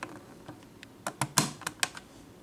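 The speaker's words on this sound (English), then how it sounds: "That switch is a little hard to flip." A stiff switch on an HVAC unit at a Marriott in Athens, Greece, is worked with a quick cluster of sharp, close plastic clicks and snaps.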